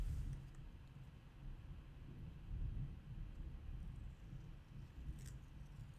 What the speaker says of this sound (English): I think someone's just pulling in their trash.